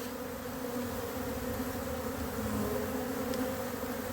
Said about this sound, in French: on a des jeunes abeilles qui sont jamais sorties, qui en profitent pour faire un petit vol de repérage, un vol de propreté